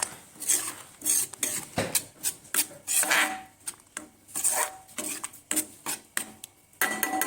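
Spinach, batter and spices roast in a pan for palak paneer, with a steady run of scraping and clinking spoon strokes against the metal, close and rhythmic, and no talking.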